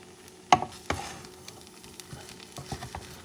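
Rice with scallops and chickpeas being stirred in a pan over medium-low heat, a faint steady sizzle with a few distinct scraping knocks of the utensil against the pan.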